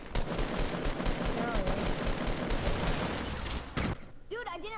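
Rapid bursts of automatic gunfire from a PS4 shooter game fire nonstop for about four seconds, dense and loud, then cut off abruptly into near silence with faint voice-like sounds at the end.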